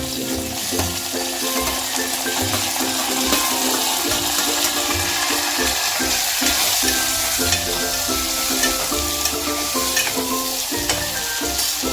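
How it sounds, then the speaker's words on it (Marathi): Tomatoes frying in a pan while being stirred give a loud, steady sizzle with a close, rhythmic scraping and stirring on top, no voices. "आता आपण टमाटर टाकतो।"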